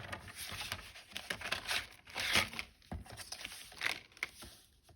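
Paper trimmer blade slicing off the ends of a card for a gate fold design with a die still attached, heard as close, crisp crinkling and sliding rasps in short bursts.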